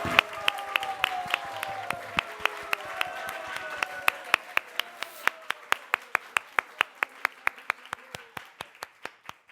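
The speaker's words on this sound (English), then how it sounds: "I think we can give a big round of applause to these devotees" An audience applauds devotees, first as dense clapping from many hands, then thinning into slow, evenly spaced single claps, under a faint voice.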